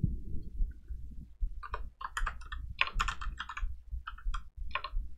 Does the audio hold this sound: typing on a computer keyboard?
yes